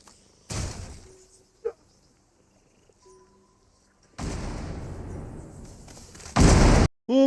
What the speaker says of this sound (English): You can detonate your minions!